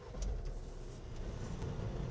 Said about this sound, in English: I'm finally getting comfortable driving the stick here